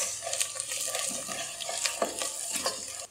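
Chole cooking in a pan as salt and red chili powder are stirred in: a gentle sizzle with repeated close scraping and stirring strokes, ending abruptly.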